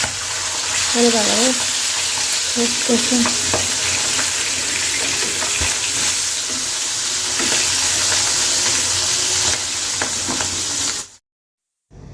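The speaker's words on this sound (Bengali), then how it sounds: "এখানে দশ বারোটা রায়েক মাছ ভেজে নিছি মশমশা করে" About ten or twelve small fish fry in a pan until crispy, giving a loud, steady sizzle close by. A voice is briefly heard early on, and the sound cuts off abruptly at the end.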